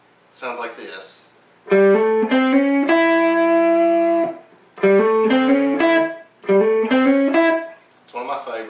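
A distorted electric guitar plays a blues lick in short bursts of bent and held notes, loud and close, with a voice speaking briefly at the start and end.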